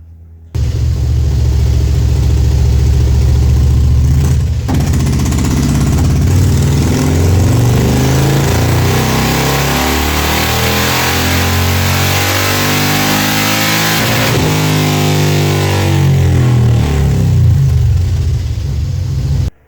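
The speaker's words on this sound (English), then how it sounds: "just baseline this thing on this dyno just to see how much it's making here" A car engine fitted with an APE-CR484 cam runs up on a dyno for a baseline pull, a loud steady drone rising in pitch through the run, briefly dipping before climbing again, then cutting off at the end.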